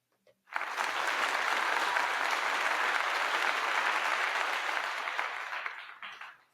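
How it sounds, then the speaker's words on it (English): Audience applause for a guest introduced to tell about his journey from college football player to cybersecurity enterprise architect, a steady full round of clapping that rises quickly and holds evenly for about five seconds before tapering off. "So let's give him a round of applause"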